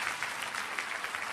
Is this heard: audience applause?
yes